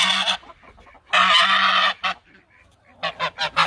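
Loud, close geese honking: a few harsh calls, one long drawn-out honk, then a quick run of four sharp honks in a row.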